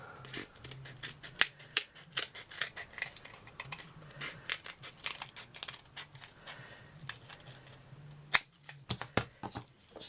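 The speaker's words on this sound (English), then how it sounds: "I might need to just cut a bit off" Scissors snip through paper for an altered jam jar lid, a long run of quick, close, crisp cuts in an irregular rhythm, with no talking.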